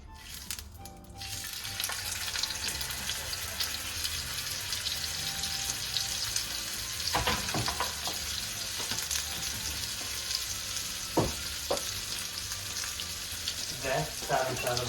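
Steak searing in hot oil in a pan, a steady loud sizzle and crackle running throughout, with sharper spits and pops as the meat settles, and no talking.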